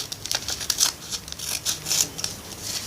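Scissors snipping through paper while making a miniature notebook, a run of short crisp cuts close up, quiet and unaccompanied by talk.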